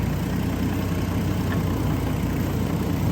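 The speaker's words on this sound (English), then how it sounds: "Roller motor's on." A vehicle-mounted roller motor runs steadily alongside an idling engine in a vehicle heat-strip setup, giving a constant, loud low-frequency hum and vibration that holds unchanged throughout with no talking.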